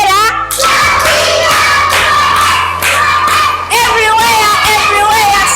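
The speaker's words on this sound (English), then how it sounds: "Clap hands for Gaia" Young children in a nursery classroom in Kigali, Rwanda, clap their hands in a quick rhythmic beat while chanting loudly together in sing-song voices.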